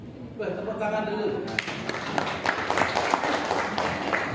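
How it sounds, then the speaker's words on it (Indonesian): An audience at an anti-corruption storytelling session for children breaks into applause after a speaker's brief phrase, dense clapping continuing for several seconds. "Tepuk tangan dulu."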